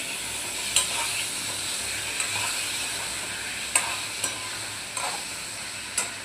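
An egg fries in a pan while being stirred, giving a steady close sizzle with a few sharp scrapes or clicks of the utensil against the pan and no talking.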